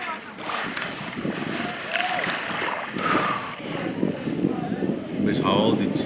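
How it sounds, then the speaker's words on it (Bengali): Wind blowing across the shore of Pangong Lake, a loud rushing buffet against the microphone that swells and gusts throughout, mixed with faint water movement. "বেশ হাওয়াও দিচ্ছে, হাওয়ারও শব্দ পাচ্ছেন আপনারা।"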